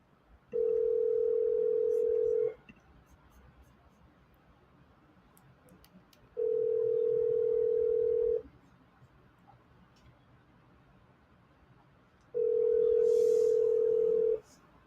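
Three long, steady ringback tones with pauses between them, an outgoing phone call ringing at a regular rhythm over faint room noise.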